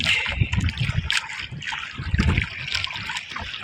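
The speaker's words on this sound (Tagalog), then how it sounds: "Dito rin po, malakas din ang agos, kaso malabo rin ang tubig." Strong sea current in Manila Bay rushes and gurgles nearby in a steady, turbulent flow, with splashy surges rising and falling throughout.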